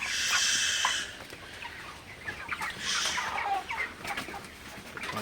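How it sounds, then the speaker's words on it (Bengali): Large broiler chickens and roosters on a poultry farm clucking continuously, several birds overlapping in a steady, moderately loud flock chatter with a brief crow-like call near the start. "দেখতে পাচ্ছেন সবই ভালো ভালো মোরগগুলো রাখা হয়েছে"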